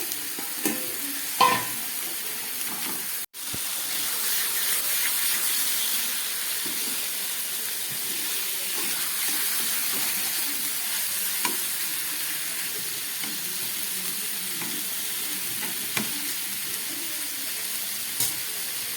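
Eggplant pieces laid over spiced lote fish, rubbed with cumin, coriander and dried chili powder, frying in a pan with a steady low sizzle and hiss, plus occasional stirring clinks and one sharp knock near the start.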